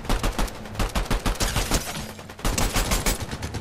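Rapid bursts of gunfire from Fortnite, a video game, crackle in dense, close volleys, with shots tumbling over each other in quick uneven rhythm and no voices.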